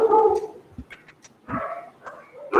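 Pet dogs barking indoors during an online talk, a few sharp yips and barks in quick bursts with short gaps between them, fairly close and loud, with no speech over them.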